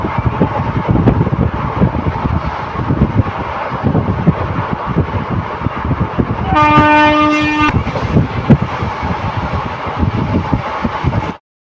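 A train rumbles steadily past at close range with rhythmic rail clatter, and one loud, sustained horn blast sounds for about a second near the middle.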